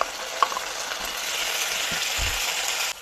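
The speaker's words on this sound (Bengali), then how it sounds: "পেঁয়াজ দিয়ে দিচ্ছি পেঁয়াজটা ভাজা হয়ে গেছে রসুন আদা কাঁচা লঙ্কার পেস্টটা দিয়ে দিচ্ছি" A garlic, ginger and green chilli paste hits hot oil with fried onion in a pan for a fish-head rice dish, giving a steady, close sizzle and frying hiss with a few light stirring scrapes and no talking.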